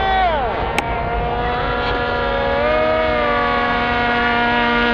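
A high-revving small RC boat motor with propeller whines steadily, its pitch sliding down and then holding, with a brief sharp click early on.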